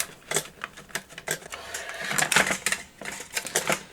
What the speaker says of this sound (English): let's just undo the screws and get this piece removed